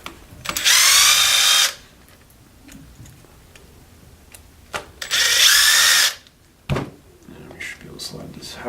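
A power driver spins screws out of the tower area on a Traxxas Rustler 4x4 RC car, with two loud whirring bursts separated by light handling clicks and taps.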